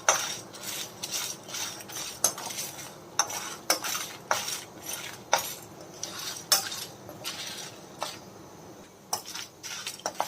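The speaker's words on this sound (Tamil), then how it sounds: "மிளகு, ஜீரகம், காஞ்ச மிளகாவை லைட்டாக வறுத்து எடுத்துக்கோங்க" Peppercorns, cumin seeds and dried chillies are dry roasted in a kadai, a metal spoon scraping and clinking in steady repeated strokes, fairly close and with no voices.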